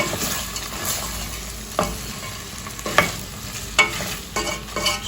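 Frozen peas being stirred into sautéed potatoes in a pot, with a spoon scraping and clinking at irregular intervals over a soft, steady sizzle of frying.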